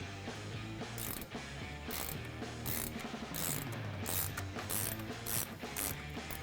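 A ratchet wrench clicks steadily in quick repeated strokes while a bolt on the suspension of a Jeep Wrangler JK is loosened during a lift kit install, close and moderately quiet with no talking.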